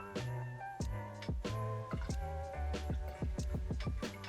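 Brandy pours into a pot with quick repeated glugs and splashy gurgles that speed up toward the end, close by, with no voices.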